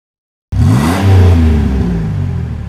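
A car engine revs steadily as the vehicle is driven up onto wooden blocks placed under the tires, starting abruptly after a short silence and holding a loud, rising-then-settling drone throughout.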